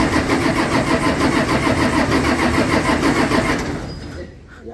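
A combine harvester engine starts up and runs with a loud, steady diesel chug, then fades down toward the end as the sound drops away.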